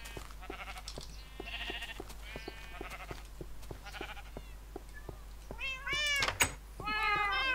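Several cats meow in overlapping bursts in a Minecraft cattery, some drawn-out and wavering, over a steady hum with regular soft ticks; the calls get louder and denser near the end.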